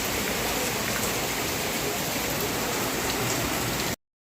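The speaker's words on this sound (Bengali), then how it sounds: "জোরে বৃষ্টি নেমেছে," Heavy rain pours down in a loud, steady wash of drops hammering on surfaces, cutting off abruptly near the end.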